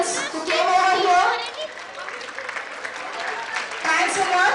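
Audience applause for couples at a silver wedding celebration, a sustained wash of clapping with crowd chatter that swells at the start, dips in the middle and rises again near the end.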